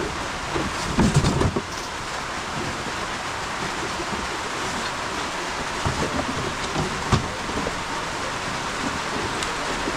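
Steady rain falls outdoors near a parked bike, a continuous broadband hiss with occasional louder gusts and splashes, moderately loud and close, with no talking.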